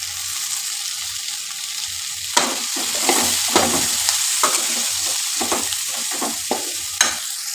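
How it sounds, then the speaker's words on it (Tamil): Onions and tomatoes sauté in masala for a mutton curry, with a steady sizzle broken by repeated scraping stir strokes of a spoon against the pan, close and fairly loud with no talking. "வெங்காய தக்காளி எல்லாமே நல்லா வதங்கிடுச்சு"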